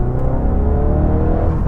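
A Ford Focus RS running a Collins Performance CP2 Mk3 map accelerates with a steady, loud engine drone heard from inside the car, short and continuous with no talking.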